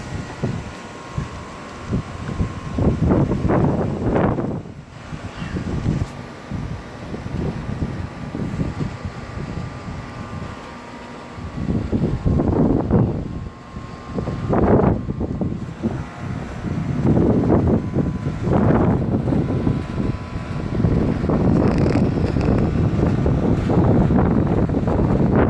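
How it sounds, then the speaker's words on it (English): Strong wind gusts batter the microphone outdoors in bursts of roaring rumble that swell and fade every few seconds, loud and close, with a steady hiss between gusts and no speech. "I mean, this is some wind now."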